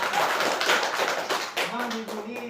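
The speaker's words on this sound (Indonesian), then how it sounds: "Tepuk tangan ibu semua." A group of women in a community meeting breaks into a short burst of hand clapping, close and lively, fading within a couple of seconds as a voice carries on over it.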